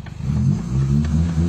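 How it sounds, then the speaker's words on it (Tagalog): A carbureted Honda Civic idles with a loud, low, rumbling exhaust note, rising slightly as if lightly revved, close by. "sana naririnig nyo yung tunog ng tambutso ni sir kasi maingay naman siya."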